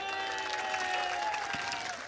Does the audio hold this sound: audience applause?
yes